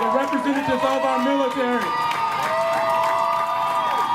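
An outdoor crowd at a Pride opening ceremony cheers and applauds steadily throughout, with whoops and shouting voices rising over a dense wash of clapping.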